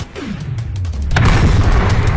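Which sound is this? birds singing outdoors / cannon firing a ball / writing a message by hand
cannon firing a ball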